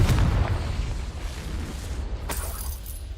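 A fiery Confringo spell blast in Hogwarts Legacy, a loud booming explosion with a rumbling low roar that decays over a few seconds, followed by a second sharper burst.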